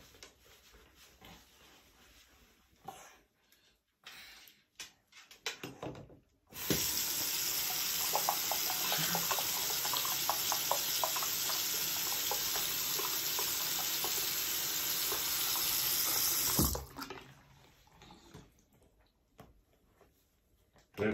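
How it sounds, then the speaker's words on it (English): A sink fills with water from a running tap, a loud steady rush that starts abruptly, holds for about ten seconds and stops, with quiet household sounds and faint talk before and after. "Did it fill the sink up again?"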